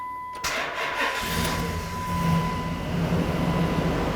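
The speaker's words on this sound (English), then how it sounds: "You want to go ahead and start the vehicle." A 2004-2009 Dodge Durango engine cranks and catches, then settles into a steady idle that runs on close by, with no talking.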